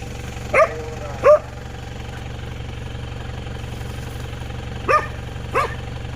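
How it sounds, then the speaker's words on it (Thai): A dog on a rural farm with buffalo barks four times in short, separate bursts, fairly close by, over a steady low engine idle. "อุ้ยหมาก็เห่าดีขนาด"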